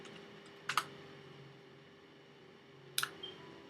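A computer keyboard is typed on in two short, quiet bursts of a few quick clicks each, about two seconds apart, over a faint steady hum.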